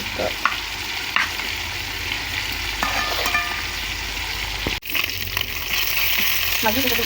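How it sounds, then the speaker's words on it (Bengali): Koi fish sizzles loudly in hot oil in a home kitchen late at night, a steady crackling fry broken by scraping stirs and clinks of a utensil against the pan, with one brief dip midway. "লাল লাল করে এটা ফ্রাই করবো শুধু"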